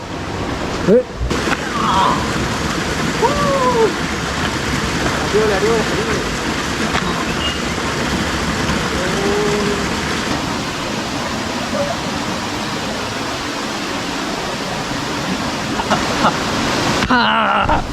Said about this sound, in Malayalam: ഇവിടെ ചെറിയൊരു വാട്ടർഫാൾസ് പോലെയൊക്കെ വെള്ളം ചാടുന്നുണ്ട്